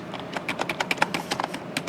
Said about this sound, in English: we start typing